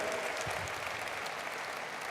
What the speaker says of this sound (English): give them a round of applause for what they're doing literally to clean up our environment